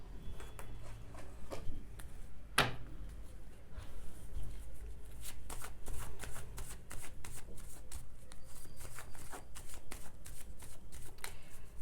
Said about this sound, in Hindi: मैं कार्ड्स को क्लैरिफाई करती हूँ और फिर मैं आपको बताती हूँ।